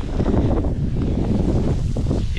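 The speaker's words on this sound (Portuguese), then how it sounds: "Está terrível de vento." Strong wind roars and buffets the microphone outdoors, a loud, continuous rumbling gust with no speech over it.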